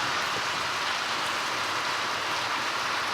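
Rain dripping and running off metal roof sheets at a building site, a steady dense hiss of falling water with no pauses, fairly close and heard alone.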